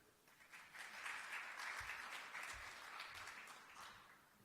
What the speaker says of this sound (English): How about a round of applause to the 3 participants?